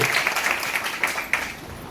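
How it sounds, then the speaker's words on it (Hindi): Audience clapping at a business leaders' meeting, a thick, continuous wash of applause from a crowd, steady and fairly loud throughout with a few sharper claps near the end. "एक बार जबरदस्त तालियां मारेंगे।"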